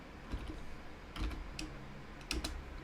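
Quick bursts of typing on a computer keyboard, soft clustered key clicks in short runs with pauses between, quiet and close, no talking.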